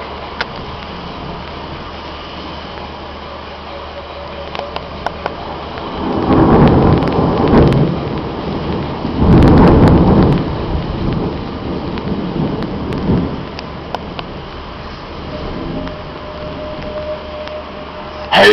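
Thunderstorm in Greece with heavy rain falling steadily throughout, swelling into loud rumbling thunder rolls around the middle and fading back to rain.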